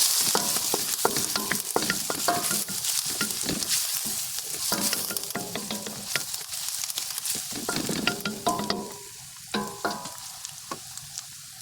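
Ginger and garlic sizzling in hot oil over low heat for a siopao filling, a dense crackling hiss with rapid spatula scrapes against the pan, the frying easing toward the end, close and without voices.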